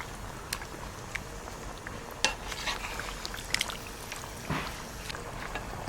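Sardines gently stirred into a chilli curry in a pan, heard as a quiet bubbling simmer with occasional soft clinks and spoon scrapes against the metal.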